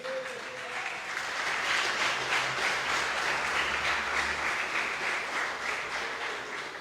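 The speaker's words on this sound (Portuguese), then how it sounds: "você pode aplaudir a Ele" Sustained applause from a church congregation during a sermon, a dense wash of many hands clapping steadily for about seven seconds at an even, moderately loud level with no speech over it.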